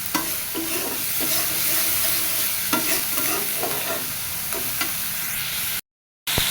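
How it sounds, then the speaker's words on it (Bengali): Meat masala spices sautéing in a pan, giving a continuous loud sizzle and frying hiss broken by regular stirring scrapes and spatula knocks, with no talking, before an abrupt cut to silence. "পরিমাণ মতো মাংসের মশলা, দিয়ে মশলাটা ভালো মতো কষায় নিব"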